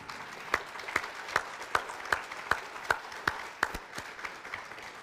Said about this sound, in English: Now it's official, we can applaud.